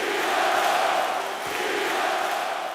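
Dense crowd roar from a Toronto Raptors home basketball crowd during Game 6 of the 2019 Eastern Conference Final, a steady chanting swell of many voices filling the arena throughout.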